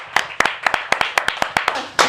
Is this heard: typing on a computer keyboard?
no